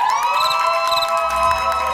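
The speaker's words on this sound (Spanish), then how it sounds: "¡Que aplauda el segundo piso!" Upper-level spectators in a live television studio cheer and shout, high excited voices and whistles ringing over scattered clapping, loud and continuous for about two seconds.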